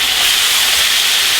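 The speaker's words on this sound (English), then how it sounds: "now it's time to extract the steak from its marinade containers and get frying" Marinated steak hits a hot pan and sizzles loudly, a dense, steady, close hiss of frying with no talk.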